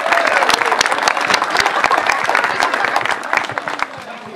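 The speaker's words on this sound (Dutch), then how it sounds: "Een heel groot applaus voor het allemaal." A crowd applauds loudly at an outdoor King's Day gathering in Doornenburg, with dense, continuous clapping that tapers slightly near the end; a voice or two may surface briefly beneath it.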